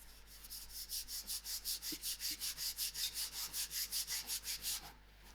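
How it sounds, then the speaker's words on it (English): Eggless butter biscuit dough is rolled out to about half a centimetre thick. Close, even back-and-forth rubbing strokes repeat about twenty times in quick succession, then stop. "take 2 of my quarters of the dough and put it together and roll it to get about 1/2 centimeter thick biscuits"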